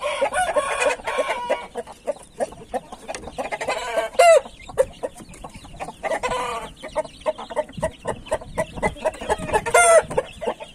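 Indian game rooster and chicks on a hot day, with dense overlapping clucking and chirping, a couple of drawn-out crowing calls, and fowl chatter continuing loud and close throughout.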